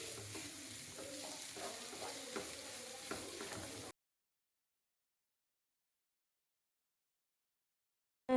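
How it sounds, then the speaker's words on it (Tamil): Onions sautéing in a pan for a spicy dried-fish thokku, a steady sizzle with stirring scrapes for about four seconds before stopping abruptly into silence. "வெங்காயம் நல்லா வதக்கி வர வரைக்கும் நல்லா வதக்கி விட்டுக்கோங்க."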